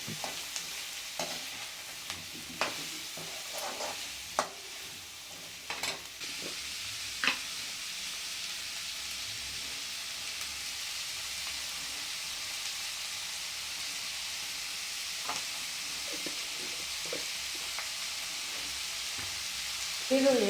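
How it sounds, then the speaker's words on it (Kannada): Onions with turmeric and salt fry in a pan with a soft, steady sizzle, punctuated by occasional scraping stirs, fairly quiet and continuous. "ಈರುಳ್ಳಿಯನ್ನು 3-4 ನಿಮಿಷ ಚೆನ್ನಾಗಿ ಹುರಿದು"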